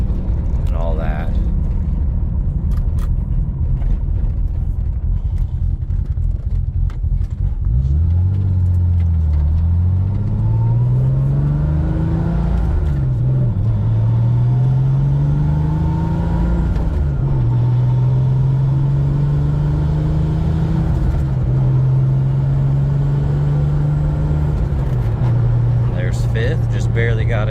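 A 1987 Porsche 911 Carrera Turbo engine drones loud and close while driving, its pitch climbing and dipping through gear changes before holding a steady cruise over constant road and wind roar.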